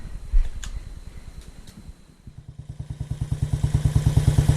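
A Royal Enfield Classic 500 single-cylinder engine fires up and settles into a steady thumping idle, pulses growing louder and regular at close range after a brief quieter stretch.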